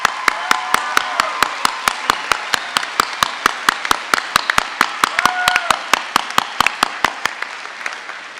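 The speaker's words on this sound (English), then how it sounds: "if you would stand so we can give you all a special round of applause" A single audience member claps steadily in a hall at a commencement ceremony, sharp evenly spaced claps close by, about forty in all, with faint crowd murmur behind them.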